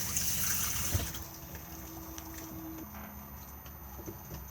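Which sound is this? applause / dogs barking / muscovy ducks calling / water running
water running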